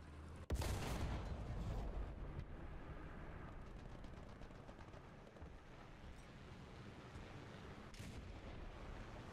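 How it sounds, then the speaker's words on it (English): A KV-2 tank's heavy cannon fires in a World War II tank battle game, a single loud boom near the start followed by rumbling battlefield noise and distant crackling shots. "KV-2 just shot"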